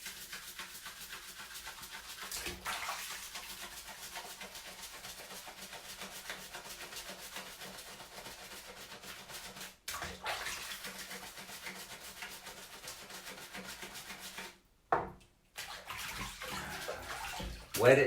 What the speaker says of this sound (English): I'm feeling like the back needs to be scrubbed again.